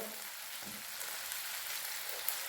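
Cubed potatoes sizzle and fry in a hot pan, a soft, steady crackling hiss with a few faint spatters and no voices.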